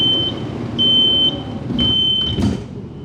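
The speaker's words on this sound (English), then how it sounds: "that was the beeping of the door closing." Train door-closing warning beeps on a rail line in Kuala Lumpur near Pudu, a series of sharp, steady electronic tones repeating over low, rumbling carriage noise.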